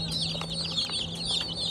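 Hens cluck softly close by among their chicks, with high, busy peeping from the chicks layered over the low clucks.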